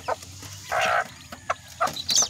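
Chicks being fed at a farm give short high chirps and peeps in scattered bursts, close to the microphone, with a few soft pecking and rustling sounds between them.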